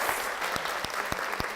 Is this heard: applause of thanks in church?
yes